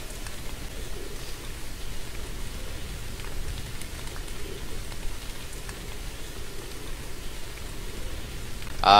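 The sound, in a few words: rain at night in video game Moon Sliver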